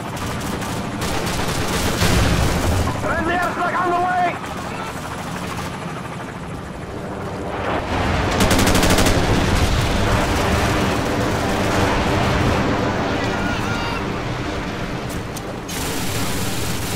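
Sustained video game gunfire rattles in dense bursts alongside a droning helicopter-like engine roar, loud and continuous with brief lulls between volleys.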